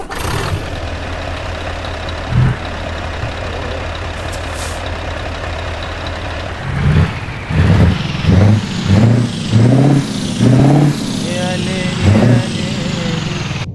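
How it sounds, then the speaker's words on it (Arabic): Scania truck engine with an engine sound mod in Euro Truck Simulator: a loud, steady diesel drone that turns into a series of rhythmic revving surges as the truck pulls away and works through the gears. "انا بس ضفت عليها مود المحرك الصوت، لان هذا كمان صوته حلو"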